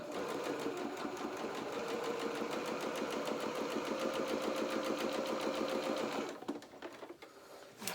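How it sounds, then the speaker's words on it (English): A sewing machine runs a straight stitch along a seam on a vinyl-fronted project bag, a rapid steady mechanical chatter held for about six seconds before stopping, followed by quiet handling clicks. "it's just sew one line all the way down that join"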